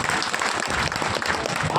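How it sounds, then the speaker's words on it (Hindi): A crowd at a political rally for the Gandey by-election claps in a sustained round of applause, while a speaker's voice is heard over it. "समझे? ताली बजाइए।"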